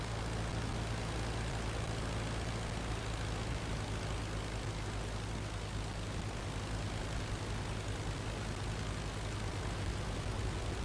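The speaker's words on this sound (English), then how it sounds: "Plane seems to still be performing okay." An Albatros biplane engine in the Flying Circus flight game drones at a steady, continuous pitch throughout, with no talk over it.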